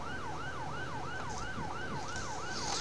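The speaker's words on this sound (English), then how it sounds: "That taxi's just jumped lanes as soon as he heard my sirens." A London ambulance siren in the video game GTA IV wails in fast, regular up-and-down cycles, steady and fairly close over a low road hum.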